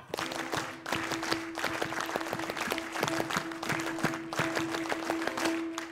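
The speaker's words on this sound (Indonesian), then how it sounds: "Tepuk pramuka." An Indonesian scout-style group clap from a studio comedy-show audience, bursts of patterned clapping in rhythmic clusters with musical tones sustained underneath, fairly loud and continuous over several seconds.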